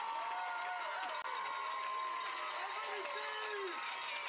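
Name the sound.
crowd cheering at Little League baseball game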